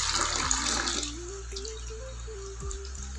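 Half a cup of sago pearls is swished and rinsed in a vessel of water, giving a close, steady watery sloshing that settles into softer trickling, with a low hum running underneath.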